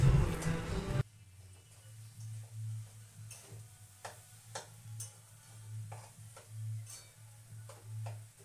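Lentils and jaggery being stirred and roasted in a kadhai: a quiet, low bubbling simmer with repeated soft scrapes and taps of a spoon against the pan, close by, after a brief louder burst at the start.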